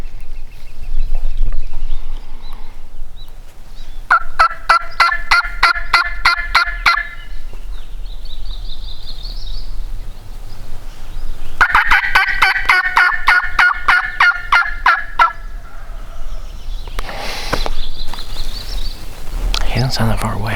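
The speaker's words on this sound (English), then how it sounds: "Let's see if we can't get them to gobble once." Wild turkeys gobble in two loud rattling bursts, with quieter calls in between, on public land in North Idaho during a hunt; faint whispering and outdoor background.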